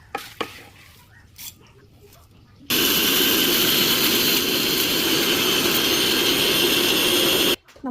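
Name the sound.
mixer grinder grinding dry-roasted garam masala spices in small jar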